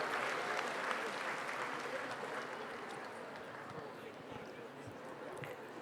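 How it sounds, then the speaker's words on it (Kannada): An audience at a Karnataka higher education scholarship event claps for a woman invited to give the vote of thanks, a steady sustained round of applause that slowly fades over several seconds. "ಜೋರಾದ ಚಪ್ಪಾಳೆ ಬರಬೇಕು ಮ್ಯಾಮ್ಗೆ."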